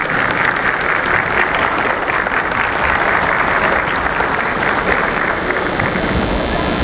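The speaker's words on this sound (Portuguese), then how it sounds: "olhassem para as mulheres e começassem a bater palmas para elas" Loud, dense audience applause filling a hall, with many people clapping steadily for around seven seconds and no speech over it.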